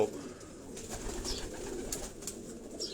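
Rooftop pigeons belonging to a Karachi fancier coo softly and intermittently, a few low murmuring calls over faint background noise.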